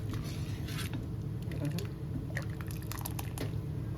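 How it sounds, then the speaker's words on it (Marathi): Hot water is poured from a pressure cooker into sambar, giving a soft, steady liquid trickle with light splashing and dripping. It is faint and continuous, with no talking. "मी त्याच कुकरमध्ये गरम पाणी केलेलं आहे आणि ते ओतणार आहे"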